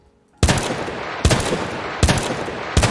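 Four loud, booming revolver shots from the Peacekeeper Colt Single Action Army in a video game, spaced evenly about three-quarters of a second apart, each with a sharp crack and long ringing tail.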